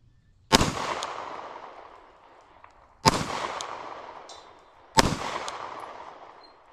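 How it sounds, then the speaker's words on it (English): Three loud, sharp shots from a Glock 26 pistol fired at small targets outdoors, evenly spaced about two and a half seconds apart, each cracking sharply and then echoing away slowly. "now I want to take a few shots at some of the smaller targets got set up."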